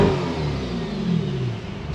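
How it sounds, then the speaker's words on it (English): A 2022 Chevrolet Corvette C8 Stingray convertible engine hums and revs steadily at close range, a continuous mid-pitched rumble with no voices. "I'll give you guys a quick rev in that mode,"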